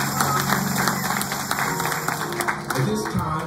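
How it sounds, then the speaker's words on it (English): A church congregation claps in praise during a worship service, a steady wash of applause filling the room with some voices mixed in. "Give the Lord another hand clap of praise."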